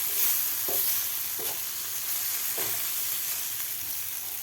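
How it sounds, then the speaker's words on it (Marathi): Crushed roasted peanuts are stirred into garlicky okra in a pan. A steady close sizzle hisses underneath a few soft, scraping stirring strokes, and no one speaks. "कूट घातल्यानंतर आपल्याला व्यवस्थित एकदा मिक्स करून घ्यायचं आहे."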